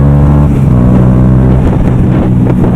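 A Yamaha YZF-R125 motorcycle engine runs loud and steady with wind buffeting, the revs rising and falling slightly in a continuous drone.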